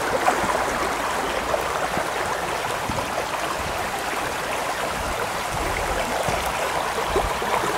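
Steady rushing flow of a rain-swollen stream running over stones, continuous and fairly close, with no voices.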